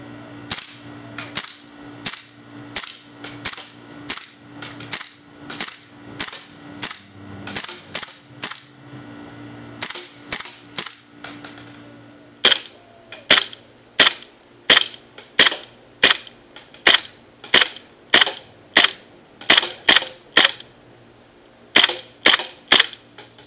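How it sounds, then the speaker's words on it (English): Pistol shots fired at a shooting range, a long series of sharp, loud cracks in a fairly even rhythm, roughly one or two per second, with a brief pause near the middle and no talking. "This is mainly for pistol shooting."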